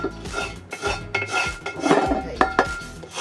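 A metal utensil scrapes and rubs across the bottom of a hot pan during deglazing, loosening stuck-on bits; close, repeated scraping strokes with clinks of cookware, no talk.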